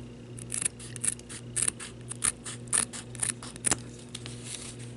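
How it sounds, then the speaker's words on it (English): Sharp scissors snip through paper along the edge of a vintage Christmas book cover ornament, a series of crisp, close cuts in uneven bursts over a faint steady hum, with no talking. "I'm just going to go ahead and cut right along the edge here"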